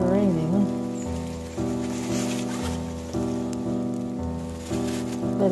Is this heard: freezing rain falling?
yes